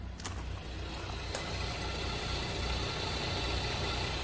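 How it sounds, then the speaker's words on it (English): A car engine idles steadily after being started, a low rumbling drone with a constant mid-range hum and a couple of faint ticks, heard close up with no talking. "Listen to this engine, too."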